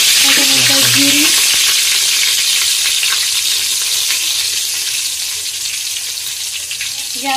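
Bay leaf and cumin seeds crackle in hot oil for a dhaba-style mix veg Kolhapuri, a loud, dense sizzle that starts strong and eases slightly, with a few faint clinks early on.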